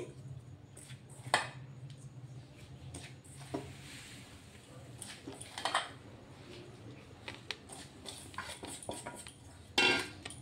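Mashed boiled potato is worked by hand with rice flour in a bowl for pitha, making soft quiet handling sounds broken by a few sharp clinks and taps against the bowl.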